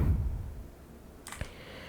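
A single soft computer mouse click in a quiet room, short and sharp after a second or so of low background hiss.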